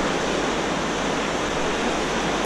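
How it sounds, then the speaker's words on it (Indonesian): Ocean waves wash continuously at Legonpari beach in Sawarna, a steady, loud, broadband roar of surf that never lets up, with no voices over it. "Ini Pantai Legonpari yang keindahan ombaknya sungguh luar biasa"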